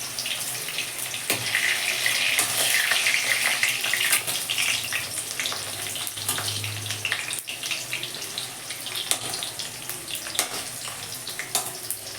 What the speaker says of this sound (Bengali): তেল গরম হয়ে গেছে এবার আমি আলুগুলি ভাজবো